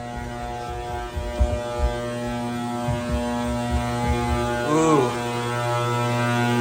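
A 12 kW metal halide lamp running outdoors during an Iowa blizzard gives off a loud, steady electrical hum with strong harmonic tones, broken by a brief rising warble and some low thumps, and one short exclamation is heard.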